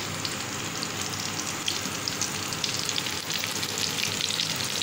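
Eggplant (baingan) slices fry steadily in a hot pan with oil, giving a dense, continuous sizzle that stays close and fairly loud throughout, with no voices over it.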